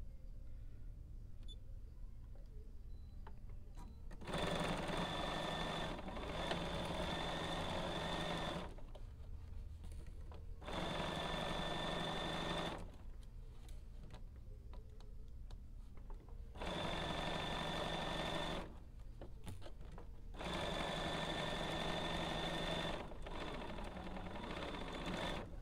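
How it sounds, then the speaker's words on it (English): A sewing machine stitches travel pillow fabric sections together in four separate loud, steady whirring runs, with short quiet pauses between them and no talking. "you just sew the four sections together like I did"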